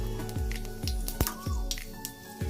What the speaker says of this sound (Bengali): তেলটা গরম হয়ে গেছে এতে আমি পাঁচ ফোড়ন দিয়ে দিলাম